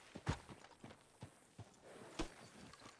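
Horse hooves in Red Dead Redemption 2 clop at a slow walking rhythm on a town street, with several distinct, moderately close steps and no talking.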